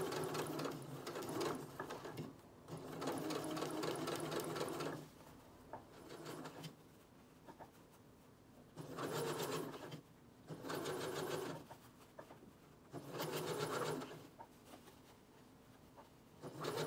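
Sewing machine stitching closed the side seam of a dress, running in several steady bursts of a few seconds each with short quiet pauses between, close and clear with no talking.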